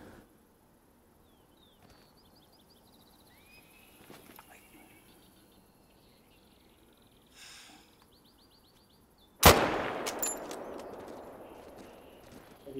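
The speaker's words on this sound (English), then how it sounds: "it does a random gunshot." In the hunting game theHunter: Call of the Wild, a single sudden gunshot cracks out loudly near the end and rings off as a fading echo, after quiet ambience with birds chirping and occasional faint footsteps.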